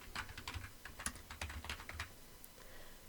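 Someone typing on a computer keyboard, a quick irregular run of close, quiet key clicks with brief pauses between bursts.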